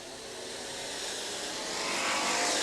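Stock cars racing at Jefferson Speedway, a steady loud engine roar that swells slightly as the cars close in, with no talk over it.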